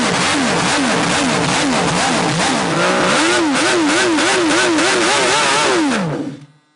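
A six-cylinder Honda racing motorcycle engine revs hard again and again at extremely high revs, its howl rising and falling in quick waves, loud and close, before cutting off abruptly.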